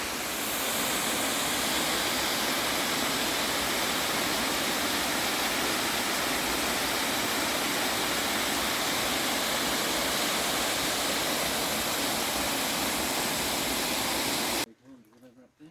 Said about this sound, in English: Anyway, Brushbox Falls.